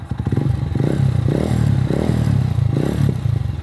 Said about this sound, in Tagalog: Ito na yung tunog ng ating motor.